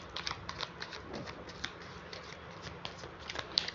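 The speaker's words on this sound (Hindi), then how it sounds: "काफ़ी राउंड्स मिक्स हो चुके हैं कार्ड्स, तो अब मैं कार्ड्स निकालना स्टार्ट करूंगी" Tarot cards get mixed by hand in quick, soft, papery riffles and taps, close and faint, with small clicks scattered through a few seconds.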